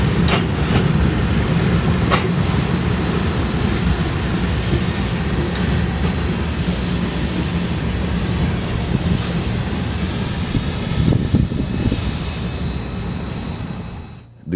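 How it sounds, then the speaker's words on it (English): The tail end of a freight train rolls past at dusk with a continuous loud rumble and clatter of railcars, fading sharply at the very end. "I was only met with the end of the train."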